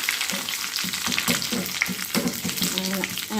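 Curry leaves fry in hot oil for a lady's finger (okra) curry, giving a steady crackling sizzle close up, broken by light scraping as the pan is stirred.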